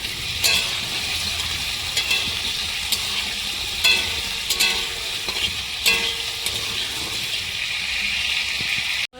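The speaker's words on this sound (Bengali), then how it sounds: "একটু সামান্য পরিমাণ লবণ দিয়ে দেবো দিয়ে আলুটাকে ভালোভাবে ভেজে নেব" Potatoes with a little salt frying in a pan, a continuous close sizzle broken by regular scraping stirs and clinks of a utensil against the pan, no speech.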